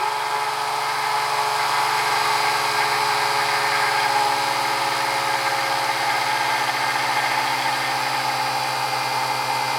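A generator engine runs under load during a coil test, giving a loud, constant buzzing hum with a fine mechanical vibration throughout and no pauses.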